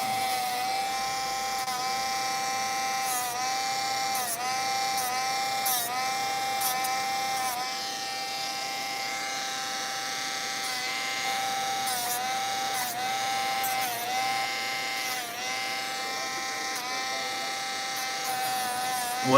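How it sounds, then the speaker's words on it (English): A high-pitched Dremel rotary tool sanding whines steadily for a long stretch, its motor pitch dipping briefly now and then as it bears against a surface. "I had the Dremel turned up too much"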